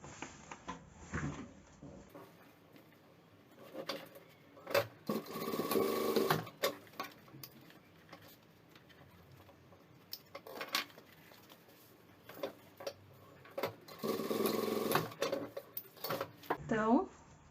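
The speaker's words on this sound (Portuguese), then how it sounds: "Já passo uma costura aqui e uma costura aqui prendendo." A sewing machine stitches a seam on a toiletry bag in several short bursts of rapid mechanical whirring, close and fairly loud, separated by quiet pauses with handling noises.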